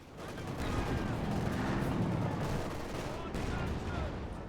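Artillery bombardment on a Panther IV in the strategy game Company of Heroes 2: a dense, continuous barrage of booming blasts and rumbling explosions, fairly loud and steady for several seconds.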